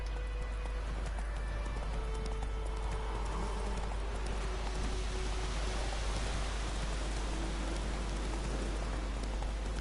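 Horse galloping in The Witcher 3 video game, a steady clip-clop of hooves under heavy rain-like hiss that runs throughout.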